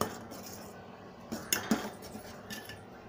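Spoon stirring dry fruits into thick rabdi, a North Indian milk sweet, in a pot: a few soft scrapes and light metal clinks, quiet and sparse, with no talking.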